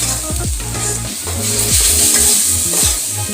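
Green chillies frying in oil in a pan give a loud, close, steady sizzle with scraping stirs and a few clunks of the spoon against the metal, no talk.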